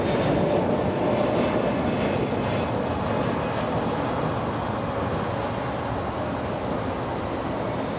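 A jet airliner taking off and climbing steeply out of LAX roars with a broad, steady rumble that stays loud and constant, with no voices over it.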